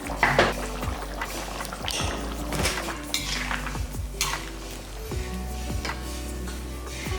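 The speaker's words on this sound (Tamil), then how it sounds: "நம்ம அரைச்சி வச்சுருக்க விழுது இருக்கு இல்லையா, அதை இதில் ஊற்றிடலாம்" Ground masala paste is poured into chicken cooking in a pan for chicken fry, with a soft wet pour, sizzling, and repeated metallic clinks and scrapes of a utensil against the pan, close up.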